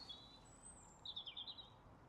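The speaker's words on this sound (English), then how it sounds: "Hear the birds chirping." Faint birds chirp in quick bright bursts, one brief call early and a cluster of short tweets a moment later, over quiet outdoor ambience in a spring churchyard at Astbury, Cheshire.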